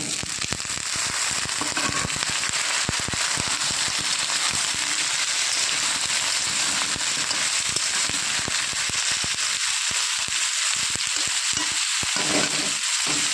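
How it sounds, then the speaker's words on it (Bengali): Potatoes and cauliflower fry in a pan with a dense, steady crackle and sizzle that stays loud and close throughout, with no voices. "একসাথে হালকা করে ভেজে নেব"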